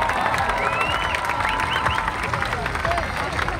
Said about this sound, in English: These guys really need a loud round of applause.